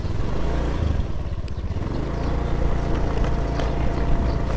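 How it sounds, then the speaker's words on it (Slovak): Older motor scooter engine idles steadily at close range on a tropical island, a loud continuous putter with slight rhythmic pulsing throughout and no talk. "poďme naštartovať motorku. Trošku starší skúter a poďme na to."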